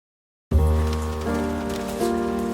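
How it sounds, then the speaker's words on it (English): Heavy early-September rain pours down on farmland in Andalusia, starting abruptly and holding as a dense, continuous hiss beneath steady tonal music. "Now in early September, the real rain has come. And that means when it rains, it pours."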